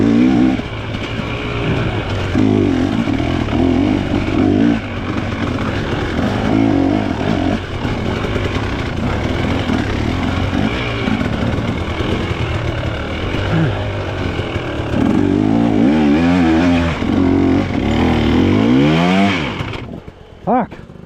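Dirt bike climbing a steep hill during a hare scramble race at McQuade, the engine loud and close throughout, revving hard and bogging in uneven surges before cutting out abruptly at the end.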